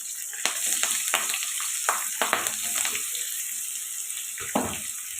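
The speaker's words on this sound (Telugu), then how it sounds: "ఇవి ఫ్రై చేసుకోవాలి బాగా." Chopped onions and green chillies fry in oil with spices in a pan, a steady close sizzle broken by scattered scrapes and clinks of stirring, with no voices over it.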